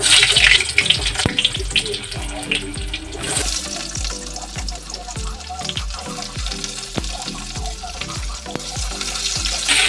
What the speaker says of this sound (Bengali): লাল আমি ভেজে নিই